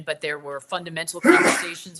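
A single loud sneeze bursts out close to the microphone right after a stretch of someone speaking, short and breathy.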